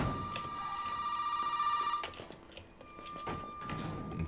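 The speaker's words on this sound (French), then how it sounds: "là, le téléphone il va ressonner" A telephone rings in the video game Resident Evil 7 Biohazard, a fairly quiet, steady electronic ring that breaks off partway through and then resumes faintly amid soft background ambience.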